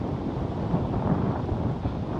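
Steady wind roaring across an exposed mountaintop viewpoint at Doi Kiew Fin near Mae Kampong, Chiang Mai, on a cold early winter morning, a continuous broadband rush buffeting the microphone with no speech.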